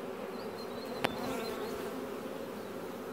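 Honeybees buzz in a steady, dense drone while a nuc split is being made, the swarm hum continuous and close with one brief sharp knock partway through.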